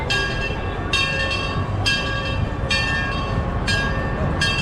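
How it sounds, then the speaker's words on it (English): A train rolls steadily past at the PortAventura theme park in Salou, a close continuous rumble with regular rhythmic clacks roughly every second as the cars go by. "and here's the train going by."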